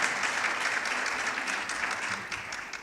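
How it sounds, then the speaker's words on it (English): An auditorium audience applauds a pioneering honoree at a dedication ceremony, a steady wash of many hands clapping throughout, fairly distant and even, with no voices over it. "let's give Dr. Caban a big round of applause for being a pioneer in this work"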